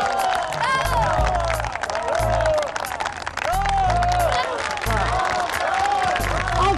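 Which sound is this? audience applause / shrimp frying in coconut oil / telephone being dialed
audience applause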